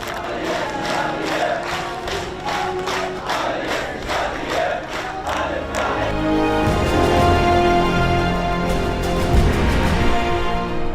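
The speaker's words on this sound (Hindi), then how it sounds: "जो लोग लाशों को दफनाने आए थे वो तालियां बजाकर नारे लगा रहे हैं" Mourners gathered at a funeral clap in rhythmic unison and then break into loud chanted slogans, a large close crowd that swells into sustained massed shouting.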